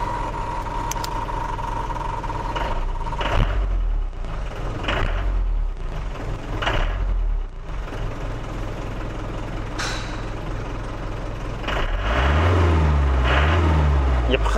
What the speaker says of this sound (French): Il y a presque même un petit bruit de turbo.